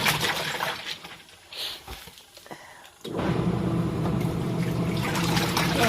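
Water moving through a new Samsung washing machine during its rinse cycle, a soft trickle and slosh that fades into quieter gurgles, then a steady louder rush of flowing water, heard close without voices.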